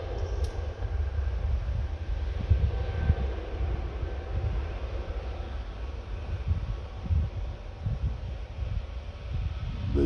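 A Transavia Boeing 737-800 takes off at Orly airport, heard as a steady low engine roar and rumble at some distance that holds evenly for about ten seconds.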